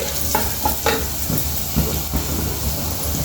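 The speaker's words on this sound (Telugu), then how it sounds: "ఇట్లా మంచిగా 1 నిమిషం పాటు మనం కందిపప్పు ఫ్రై చేసుకోవాలండి" Toor dal frying in oil in a pan, a continuous sizzle broken by repeated scraping stirs of a spoon at an uneven rhythm, close and fairly loud, with no one talking.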